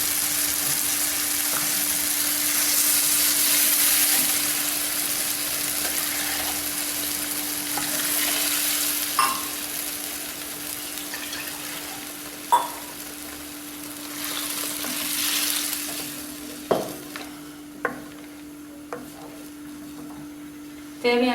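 Ground masala paste frying with sautéed onion and tomato for a broccoli and cauliflower kurma, a steady bright sizzle with occasional spoon knocks and scrapes against the pan toward the end.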